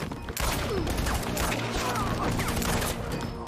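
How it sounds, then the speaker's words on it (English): Heavy pistol fire in Quantum Break comes in dense, loud overlapping shots amid chaotic combat noise and crashes, continuous throughout. "That heavy pistol paying dividends."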